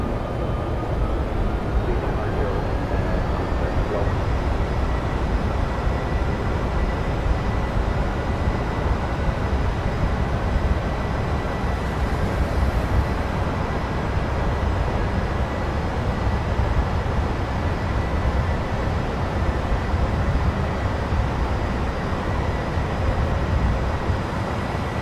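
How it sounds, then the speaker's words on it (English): Flybe Embraer jet accelerating down the runway on takeoff, a loud, steady broadband engine roar heard from inside the cabin with a rising whine, continuous throughout. "We'll just let you listen to the beautiful sounds of this aircraft as we go down the runway"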